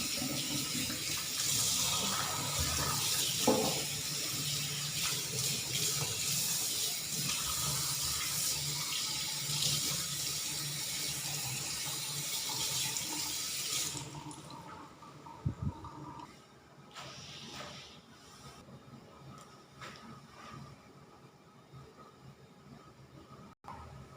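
Tap water runs steadily into a sink while vegetables that were soaked in salt water are rinsed, a loud continuous rushing for about fourteen seconds, then quieter splashes and handling noises.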